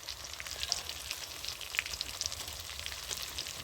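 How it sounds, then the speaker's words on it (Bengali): Spices such as Kashmiri chili powder, cumin powder and tadka masala frying in a pan for vegetarian ghugni, a soft steady sizzle with small crackling pops throughout, close and fairly quiet, no talking. "এবার সব মশলাটা আমি ভালো করে কষাতে থাকবো।"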